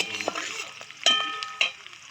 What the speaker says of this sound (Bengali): এখানে কড়াইয়ের তেল গরম হয়ে গেলে পেঁয়াজ, রসুন, তেজপাতা আর কাঁচা লঙ্কা দিয়ে দেবো